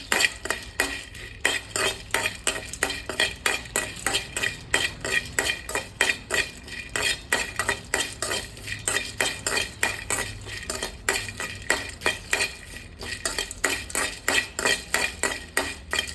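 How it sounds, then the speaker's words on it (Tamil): Cardamom pods being dry-roasted in a pan and stirred continuously, a close, rapid rhythmic scraping and rattling of a metal spoon against the pan, with a faint dry crackle underneath throughout. "எல்லா ஏலக்காயும் போட்டுட்டு ஈரப்பதம் இல்லையா நல்லா கிளறி விடணும்"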